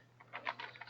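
Quiet keystrokes on a computer keyboard typing Braille in an online exercise, a short run of soft, irregular clicks close by with no voices.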